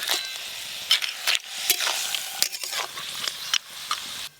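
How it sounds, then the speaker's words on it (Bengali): Leafy greens sizzling in hot oil with salt and turmeric, a continuous crackling fry broken by sharp clinks and scrapes of stirring. "নুন হলুদ দিয়ে তেল দিয়ে ভাজতে হবে।"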